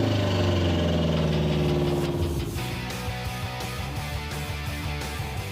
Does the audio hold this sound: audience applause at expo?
no